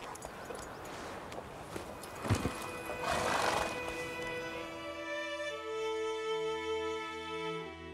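In The Witcher 3, a horse's hooves clip-clop on the ground before it lets out a loud, drawn-out whinny as it's reined to a stop, followed by a sustained tonal game sound.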